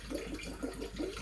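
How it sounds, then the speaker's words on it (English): Water from an aquarium pump outlet gurgles and splashes into a small tank for moving fish and shrimp, a continuous burbling flow close by, with no speech. "And water is going through."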